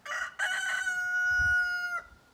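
A single loud rooster crow close by on a farm, a brief opening note followed by a long sustained cry that fades out at the end.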